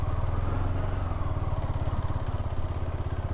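Motorcycle with soft, squishy tyres labouring up a muddy, grassy slope on a ride from Chennai to Poombarai in Kodaikanal; a steady, close engine drone with a rough low throb runs throughout, with no talk.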